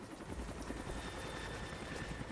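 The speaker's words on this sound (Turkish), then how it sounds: "Oha bu nasıl helikopter lan pervanesi yok" Helicopter in the video game Rise of the Tomb Raider, a steady, fast rotor chop with a droning engine hum, continuous and moderately near, no talk over it.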